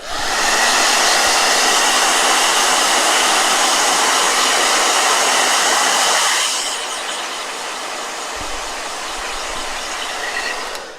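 A hand-held blow dryer dries a watercolor painting in a travel journal, a loud steady whoosh of air that drops to a lower, softer hum partway through, with no talking.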